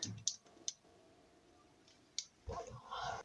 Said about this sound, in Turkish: Bu sesi de yapıyor galiba kumanda.